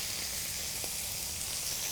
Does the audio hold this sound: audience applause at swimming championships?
no